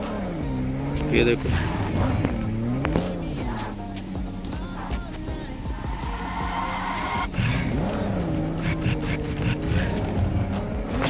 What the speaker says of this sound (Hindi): एस्टन मार्टिन की सुनो यार साउंड।